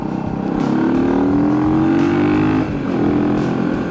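A motorcycle engine drones steadily while riding on a road in Guerrero's Tierra Caliente, its pitch rising slightly as it revs, then dipping briefly before picking up again, loud and close with no talk.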